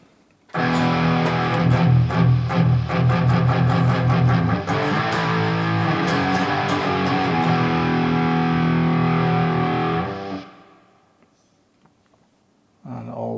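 Heavily distorted electric guitar at full gain, played through an IK Multimedia Tonex Max amp modeler with added reverb, compression and noise gate, strummed loudly and steadily for about ten seconds before cutting to near silence.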